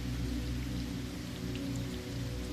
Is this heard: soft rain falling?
yes